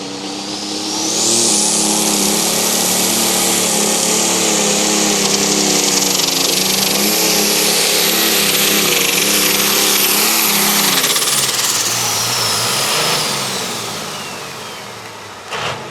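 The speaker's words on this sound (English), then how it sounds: "green flag for the family affair tractor" The Family Affair pulling tractor roars at full throttle down the track at The Buck, a loud, sustained, high-revving engine blast that climbs quickly, holds steady for about ten seconds, then drops off and fades into the distance.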